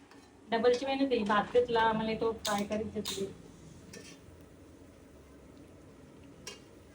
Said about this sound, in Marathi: इथे कुकविथ कडून साबुदाणा वडा फ्राय केला जात आहे